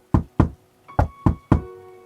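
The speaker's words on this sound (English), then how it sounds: "there was a sudden knock on his dispensary window" Five sharp knocks rap on a dispensary window in two quick groups, near and distinct, with a faint ringing tone after the last strikes and no speech.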